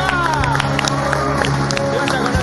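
A dense, loud crowd cheers, whoops and applauds continuously as a Paul McCartney fan boards a bus. Shouting voices are mixed into the roar at close range.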